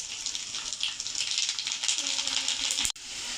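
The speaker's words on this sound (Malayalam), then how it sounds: "കടുക് പൊട്ടി വന്നിട്ടുണ്ട് അരി ഇട്ട് കൊടുക്കാം" Mustard seeds and raw rice fry in hot oil in a pan, making a steady, close hiss with faint crackles that cuts off abruptly near the end.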